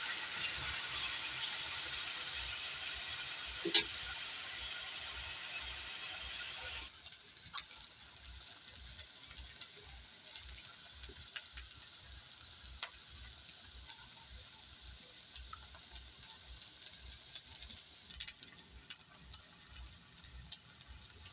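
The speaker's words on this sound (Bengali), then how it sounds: "পেঁয়াজটা একটু লাল লাল ভাজা হবে।" Chopped onion frying in hot oil with whole cumin in a pan: a continuous soft sizzle, louder at first, then quieter crackling with occasional stirring scrapes, close and unaccompanied by talk.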